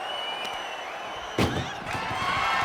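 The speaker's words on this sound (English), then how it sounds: "Shut the doors and this one's over." Ambulance doors slam shut with a single loud, sharp thud midway through a WWE 2K25 match, over steady arena crowd noise that swells afterward.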